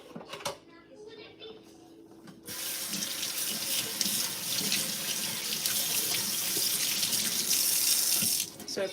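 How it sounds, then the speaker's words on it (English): A kitchen tap gushes steadily into a sink as juicer parts are washed, beginning after a few clinks and faint sounds of handling, then running loud and close for several seconds before shutting off. "I'm going to wash all these things before I use it."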